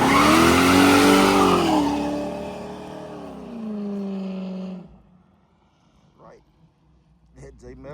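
A car engine revs hard after a carburetor tune, a loud roaring pitch that rises then settles and dies away midway, followed by quiet with people talking nearby.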